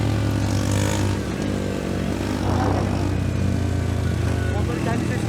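A 125 cc motorcycle, a Mondial 125 Drift L or Honda CBR 125R fitted with an aftermarket exhaust, runs with a steady low, throbbing engine drone, close and continuous, with speech in the background.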